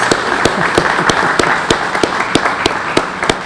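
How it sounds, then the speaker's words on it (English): An outdoor audience applauds at the ribbon cutting for the South End Public Safety Complex, a steady wash of clapping with sharp, regularly spaced claps standing out nearby. "I just want to ask everybody to join me in a round of applause."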